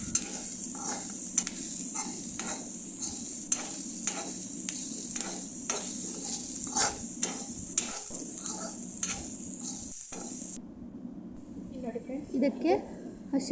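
Asafoetida frying in hot oil in a pan for batata vada gives a steady close sizzle with repeated scraping clicks from stirring. The sizzle cuts off abruptly near the end, leaving quieter background sounds.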